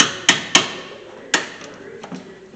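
Sharp, close hammer taps on old, crusty brake caliper screws of a 2013 Hyundai Santa Fe during a brake and rotor job, with four or five irregular metallic knocks and short pauses between them.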